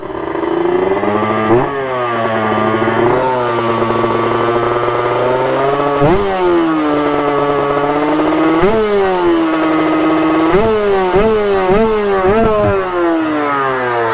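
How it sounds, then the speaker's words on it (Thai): A Kawasaki KR motorcycle engine runs alone, a raspy two-stroke buzz with repeated throttle blips rising and falling in pitch, close and loud throughout. "เสียงใสไหมทุกคน คือผมฟังเสียงไม่เป็นนะว่า ว่าเสียง KR เนี่ย มันใสหรือไม่ใสนะทุกคน"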